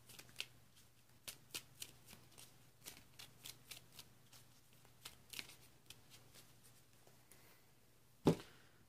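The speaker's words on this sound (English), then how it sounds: "shuffle our deck" A deck of Pokémon trading cards is shuffled by hand in quiet, rapid riffling bursts repeating at an even pace, ending with a sharper tap as the deck is squared.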